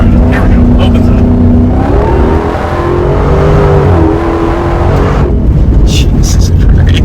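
A Jeep engine revs loud and close, its steady drone rising and shifting in pitch as the throttle opens, with a person talking over it.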